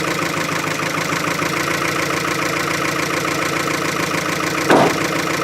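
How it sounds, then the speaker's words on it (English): Chevy Aveo engine running with no oil, idling low at around 750 RPM, a loud, steady, close-up rumble with a brief knock-like thump near the end. "She's idling at 750 RPM right now. And it sounds much healthier."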